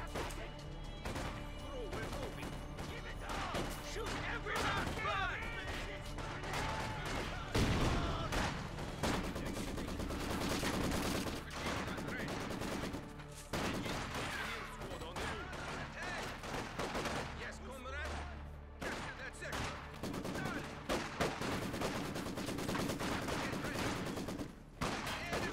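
Enemy machine gun fire in a World War era multiplayer shooter, dense and continuous bursts of rapid shots and impacts layered with battle noise throughout, loud and close, with occasional voices underneath.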